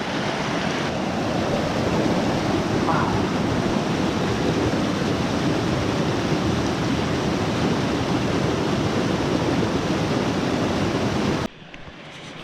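A creek's rushing water roars steadily and loudly nearby in winter, a constant broad wash that cuts off abruptly near the end.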